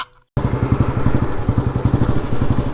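Royal Enfield Bullet motorcycle engine running close by after a brief quiet start, a loud, steady thumping idle with a rapid, regular pulse.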